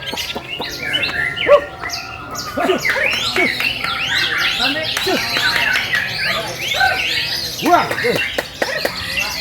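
Songbirds, white-rumped shamas, competing at a bird-singing contest at CAS Waterpark, Cikole, pour out dense, overlapping chirps and whistled phrases, loud and continuous, while people shout and talk nearby.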